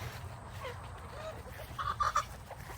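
Backyard chickens cluck and call in a short burst near the coop door, a few bright, close squawks rising toward the end over a low rumbling background.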